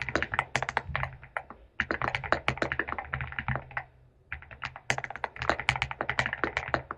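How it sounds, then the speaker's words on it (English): Rapid, crisp clicks of keys being typed on a keyboard, close-up and steady, with a couple of brief pauses between bursts. "And the tactile feel of typing is unmatched."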